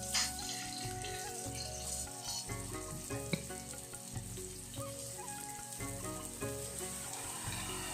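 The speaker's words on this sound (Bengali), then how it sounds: "আমি পেঁয়াজটা ভেজে নেব।" Onions fry in hot oil with dried red chillies in a home kitchen, giving a steady close sizzle with occasional stirring clinks against the pan.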